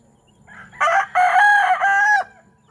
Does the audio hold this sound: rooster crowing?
yes